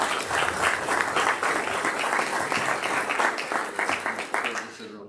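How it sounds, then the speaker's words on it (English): An audience at a business credit meeting breaks into sustained, dense applause, a warm round of many hands clapping together at steady volume before it fades out at the end. "Let's give him a warm round of applause."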